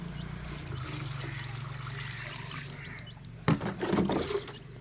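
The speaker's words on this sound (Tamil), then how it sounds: "நம்ம பேப்பர் ஏதாச்சும் வச்சு நம்ம அப்படி வந்து தண்ணி ஃபில் பண்ணுறோம்" Water is poured from a container to fill a lotus planting pot lined with paper over garden soil, a steady trickling stream for several seconds before heavier splashing bursts near the end.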